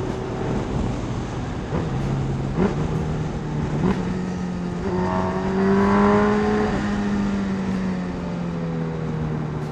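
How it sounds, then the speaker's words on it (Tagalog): Kawasaki Hayabusa motorcycle engine heard from the rider's position in traffic, revving in sharp rises and drops as it downshifts, with loud engine tones stepping up and down through several gear changes over steady wind and road rumble. "Ang sarap ng tunog ng ano boys, no, ng downshift."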